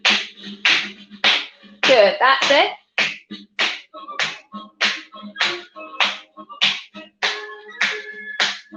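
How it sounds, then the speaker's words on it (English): Hands pat a lap in a steady rhythm during a seated movement exercise class, about a dozen soft, even slaps set against background music while a voice gives brief encouragement. "pat your lap"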